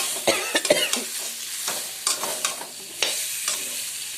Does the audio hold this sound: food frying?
yes